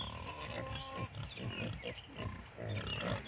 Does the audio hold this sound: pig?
yes